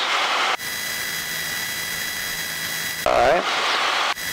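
Small airplane engine during a landing approach, a steady droning hum heard from inside the cockpit that briefly swells as power is added, with people talking over it.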